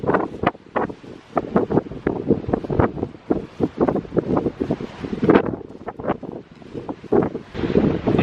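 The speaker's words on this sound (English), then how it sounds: "It's insanely windy." Strong, gusty wind at Boulder-Grand Pass in Rocky Mountain National Park buffets the microphone in close, irregular bursts of rumbling roar, with no talking.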